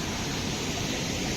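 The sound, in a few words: Kasmal waterfall rushing water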